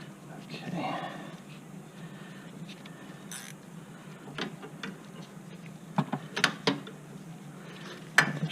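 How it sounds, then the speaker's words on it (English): A 14 mm ratcheting wrench clicks in short bursts while working on the rear brakes of a Nissan Rogue, the sharp ticks sparse early and bunching near the end over a low steady background hum. "your handy dandy 14 ratcheting wrench"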